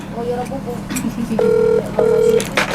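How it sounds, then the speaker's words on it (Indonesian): A phone dials out with two sustained steady tones, each lasting about half a second, heard close over a noisy room while a person talks nearby. "Tak telepon Mas Andro"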